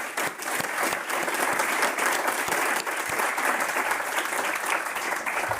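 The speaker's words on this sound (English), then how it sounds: "I think they just deserve another great big round of applause for presenting so well." A room full of people at an awards announcement event bursts into sustained applause, dense steady clapping holding at a constant level throughout, with no speech over it.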